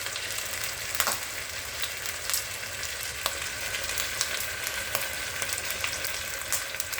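Meat fries in a pan on the stove, a continuous moderate sizzle with scattered sharp pops and spits.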